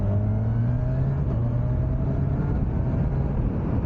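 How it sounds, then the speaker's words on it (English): A 2025 Kawasaki Ninja 1100SX engine steadily droning close by, its pitch easing slightly lower through a quick-shifter downshift, loud and unbroken. "Yeah, downshift sound, it's awesome."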